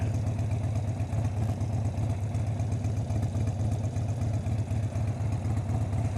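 A car engine idles with a manual idle control fitted, a steady low rumble with an even, unbroken throb running close and constant throughout, with no voices.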